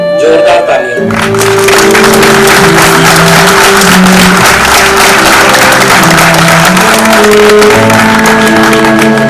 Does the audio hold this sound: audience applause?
yes